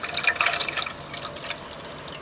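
Water pours from a pitcher into the tray of a tile saw, splashing and trickling loudly at first, then settling into a quieter dribble.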